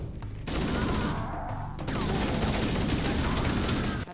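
Assault rifle in the shooter game Halo: Combat Evolved firing a sustained full-auto burst, loud and rapid with a short pause before the stream of shots resumes and runs to the end.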